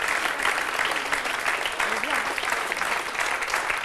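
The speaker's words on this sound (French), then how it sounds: "Je pense qu'on peut vraiment applaudir Sarah" A theater audience applauds a telepathy act with steady, dense clapping, and a voice briefly speaks over it midway.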